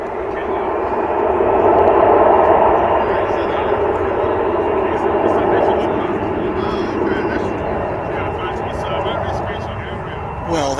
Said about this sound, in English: that made a big sound. That A321.